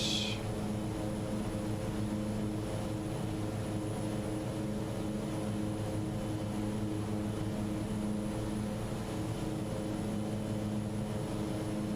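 An Aerosoft Twin Otter twin-propeller aircraft climbing in Microsoft Flight Simulator: a steady, even engine drone with a constant propeller hum, unchanging and fairly quiet, with no voices.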